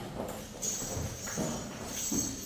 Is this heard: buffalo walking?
yes